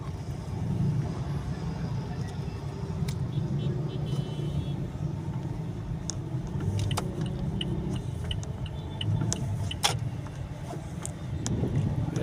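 Heavy road traffic on Quezon Boulevard: a dense, continuous rumble of idling and crawling vehicles with scattered clicks and clanks nearby, and occasional voices mixed in.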